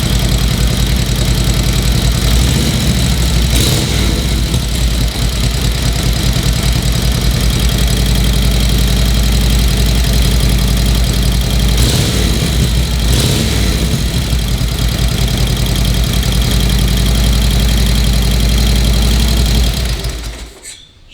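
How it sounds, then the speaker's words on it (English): A vintage Harley-Davidson motorcycle engine starts and settles into a loud, steady idle with a deep, continuous throb and a couple of brief throttle blips, then cuts off abruptly at the very end. "So ignition on, that should go pretty much first kick."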